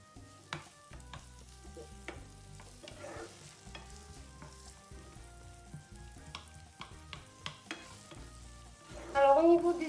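Onions and potato cook in a blend of sunflower and olive oil for a potato tortilla, a soft low sizzle broken by repeated utensil clacks and scrapes, growing louder and busier in the final second.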